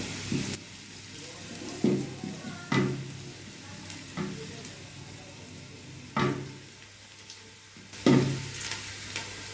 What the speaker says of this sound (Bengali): পেঁয়াজটা প্রায় বেরেস্তার মতো ভাজা হয়ে গেছে, মানে হালকা লাল লাল ভেজে নিয়েছি